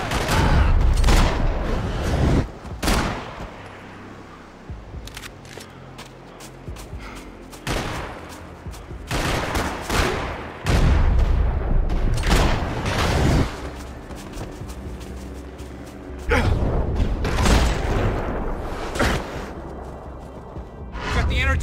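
Gunfire in the video game Max Payne 3, with repeated loud bursts of shots and booming impacts in a sustained firefight, some heavy rapid volleys and brief lulls, with voices talking between the shots.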